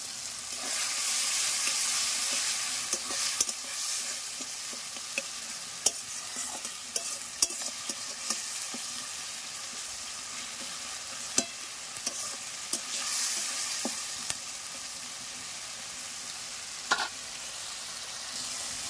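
A ground paste of ginger, garlic, onion, cumin and coriander fries in a pan, a steady close sizzle with scattered scraping knocks of a spoon as it is stirred, no talking.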